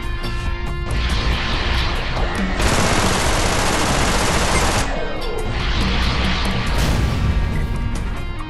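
Bursts of weapon fire and missile launches in the Fist of the North Star: Lost Paradise video game, two loud, dense volleys of rapid shots separated by a quieter stretch, against steady game background sound.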